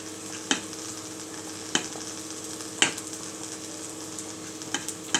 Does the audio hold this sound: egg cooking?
yes